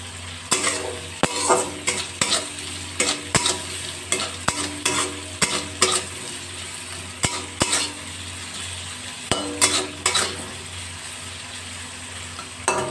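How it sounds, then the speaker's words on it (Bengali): Salted, turmeric-dusted pumpkin pieces fry in a pan under a constant sizzle, with repeated sharp clacks and scrapes of a spatula stirring them against the pan at an uneven rhythm, close and loud, no talking. "কুমড়োগুলো ভালো করে ভেজে নেব"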